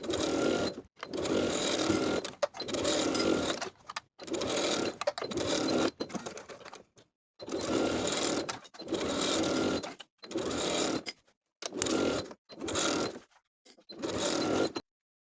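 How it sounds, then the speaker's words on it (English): Sewing machine running around the top of a midi skirt, stitching the waistband seam in repeated bursts of steady whirring separated by short pauses, close and alone. "Now we're ready to sew all the way around the top of the skirt"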